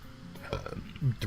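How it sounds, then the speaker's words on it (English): A character in the visual novel Katawa Shoujo lets out a brief voiced burp, a short, throaty belch mixed with vocal sounds, close and moderately loud. "Burp."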